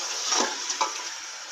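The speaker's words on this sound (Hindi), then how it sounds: "इसको थोड़ा 5 मिनट इसको भूनेंगे चिकन को" Chicken pieces fry with salt in a pot for a degh-style chicken korma, giving a steady close sizzle with a couple of brief stirring scrapes and no talk.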